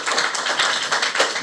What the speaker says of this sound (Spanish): Un fuerte aplauso, Andrés, y adelante.